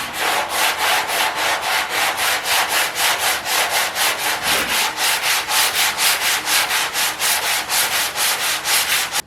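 Block sanding body filler on a car panel during dent repair: a steady, loud rhythmic rasp of back-and-forth strokes, about three per second, running continuously with no talking.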